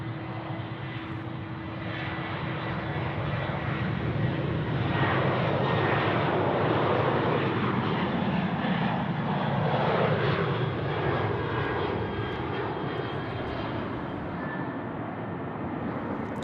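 An airliner at Sydney Airport roars on the main runway at takeoff power, a loud and sustained engine rumble and whine that holds steady throughout with no voices.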